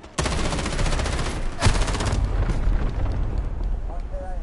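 Dense gunfire from Call of Duty Modern Warfare, a sudden loud burst of rapid shots and blasts that keeps roaring throughout, with a sharper crack partway through.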